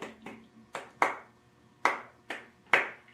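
Hands clap about seven times in an uneven rhythm, each sharp, close and ringing slightly, with quiet pauses between and no talking.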